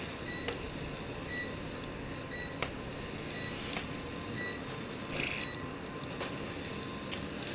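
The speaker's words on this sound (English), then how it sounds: "That beeping is my UPS." A UPS battery backup unit beeps in a house during a power drop: short, high, evenly spaced beeps repeating about once a second, faint over a steady background hum.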